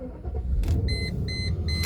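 A 1999 Mercedes S500 Grand Edition engine fires up with a short low rumble, while repeated electronic warning chimes ring out in a regular pattern over it.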